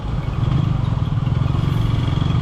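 Motorcycle loaded with luggage rumbling steadily while riding in second gear on a road trip toward Tawang, a loud, continuous low engine drone with a fast pulsing beat and no voices.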